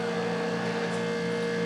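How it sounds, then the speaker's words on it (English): A room air conditioner runs with a steady, loud, broadband hum and low drone, constant throughout the brief stretch with no other sounds. "Sorry for the noise. That is the air conditioner."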